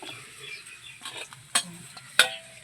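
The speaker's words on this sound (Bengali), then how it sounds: "এবার বাকি মাছগুলো আমি ভেজে নেব" Live tengra fish fry in hot oil with a soft, close sizzle and a couple of sharp splattering pops or utensil clinks standing out.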